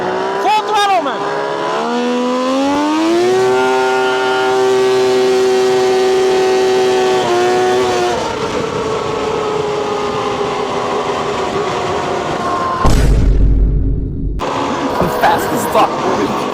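A 160 HP race tractor runs at full throttle with a loud, rising engine whine that climbs and holds, then shifts, while someone shouts over it and wind roars in brief gusts near the end.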